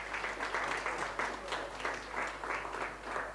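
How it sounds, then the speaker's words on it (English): Audience applause at a live-streamed sommelier contest, steady clapping from a crowd filling the whole moment without talk. "Please give them a big round of applause."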